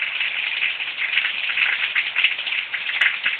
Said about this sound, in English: Damn, it's raining now.